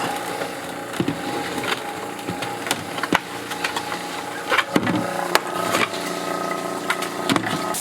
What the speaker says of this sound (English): Looks like that's pumping what's left of liquid out of there